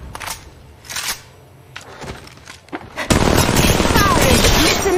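Gunfire in the mobile battle royale game Apex Legends Mobile: scattered sharp shots at first, then a dense sustained burst of rapid automatic fire, loud and close, with a voice speaking over it.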